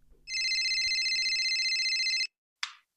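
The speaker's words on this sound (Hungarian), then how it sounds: "Nóra kimegy, mert Edinának megszólal a mobilja." A mobile phone rings indoors in a stage play, a loud steady electronic ringtone sounding close for about two seconds before cutting off, followed by a brief short burst of the same tone.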